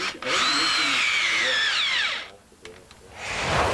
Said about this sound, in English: the window frame is attached to the foundation wall with cement screws